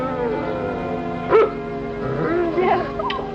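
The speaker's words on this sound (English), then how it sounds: "I thought I heard Lassie barking." A dog barks and yips a few times, short sharp calls at around the middle and end of the stretch, over a steady background of orchestral television soundtrack music.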